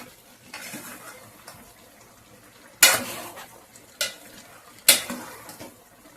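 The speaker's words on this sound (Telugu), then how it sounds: "పసుపు ఉప్పు వేస్తున్నాను ఇప్పుడు ఒకసారి బాగా కలుపుదాం" A spoon stirs turmeric and salt through a pot of cucumber chicken curry, with soft scraping and three sharp metallic clanks against the pan, fairly close and with no talking.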